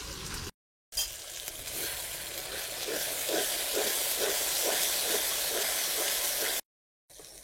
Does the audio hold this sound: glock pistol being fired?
no